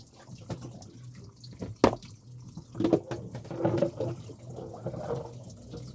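Tap water splashing and running over a glass being washed in a sink, with soft irregular splashes, a sharp clink near two seconds, and steady low trickling throughout.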